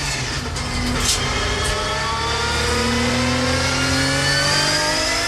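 Touring cars race past in a 1990s championship, a Renault chasing a Honda, engines revving hard with rising and falling pitch, loud and close, no talking.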